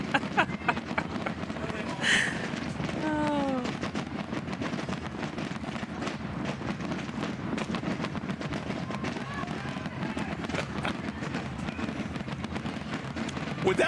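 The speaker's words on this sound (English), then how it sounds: "The 45-minute firework extravaganza" Fireworks finale at a Rosemont pro softball game: a dense, continuous rumble of bursts and crackles with a sharp whistle early, heard from a distance with people talking over it.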